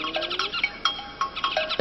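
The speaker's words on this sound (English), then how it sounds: "A yellow-tufted woodpecker shares the harpy's tree." A yellow-tufted woodpecker calls from a tree in the Manu jungle, giving a series of sharp, close chirping notes with short gaps between them.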